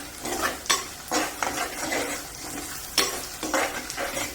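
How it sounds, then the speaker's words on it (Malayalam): A spoon repeatedly scrapes and stirs through sardine curry in a sizzling pan as coriander powder is mixed in, the curry made without coconut; the strokes come as a close, rhythmic series with no talking. "നന്നായിട്ടൊന്ന് ഇളക്കിയെടുക്കാം."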